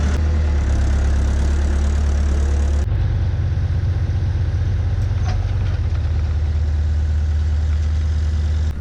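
A tractor hitched to a cultivator runs at a steady, heavy, low idle, loud and constant with a slight shift in tone partway through.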